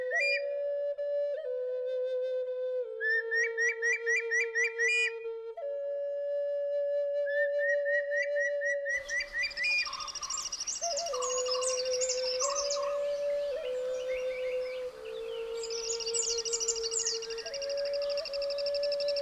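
Birds call in the Western Ghats forest during the summer nesting season, with clear repeated whistled notes and chirps layered over each other. Partway through, a denser background of insects and other calls joins in.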